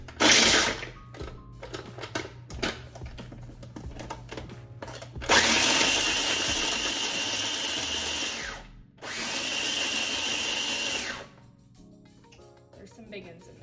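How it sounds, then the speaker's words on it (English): A mini food processor chops pecans in two loud whirring bursts of a few seconds each, separated by a short gap, after a stretch of softer clatter and handling noise. "So now we've called in the big guns, the mini food processor."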